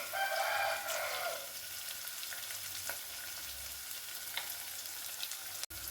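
Fennel seeds splutter in hot oil for a mushroom masala, a dense crackling sizzle loudest in the first second or so and then settling into a steady, softer frying hiss with a few pops.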